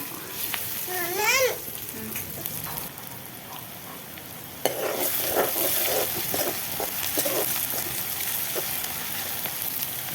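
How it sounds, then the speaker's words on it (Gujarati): Chopped onions frying in hot oil in a home kitchen for a Gujarati gravy-style peanut bhajiya curry, a steady close sizzle that surges louder partway through, with a voice briefly chattering in the background. "નાખી દઈશું ડુંગળી આને થોડી વાર આપણે સડવા દઈશું તેલમાં"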